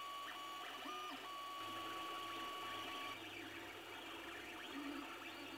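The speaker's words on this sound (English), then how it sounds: "The sculpture is printed layer by layer." A Creality Ender 3D printer hums and whirs continuously while printing a hollow cat sculpture layer by layer, its stepper motors giving short rising and falling whines; steady and close, with no voices.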